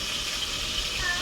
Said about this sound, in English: We have like the exhaust fan thing on because it's kind of smoky.